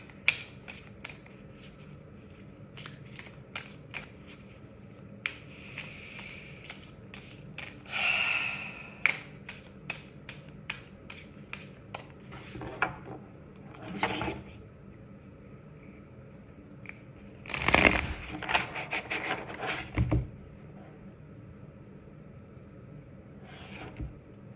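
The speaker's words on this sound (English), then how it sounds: "Let's pull a spellcasting oracle card here." Spellcasting oracle cards shuffled by hand in soft, faint riffles and taps, with a few louder bursts of card noise and audible breaths between them, no talk.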